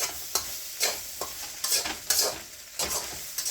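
Fried rice with chicken and egg sizzles in a hot pan, with repeated rhythmic tosses and scrapes giving bursts of louder frying over a steady hiss.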